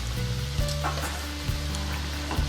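Khasta mathri dough frying in a pan of hot oil, a dense and steady sizzle with a few faint bubbling pops, close and fairly loud with no voices.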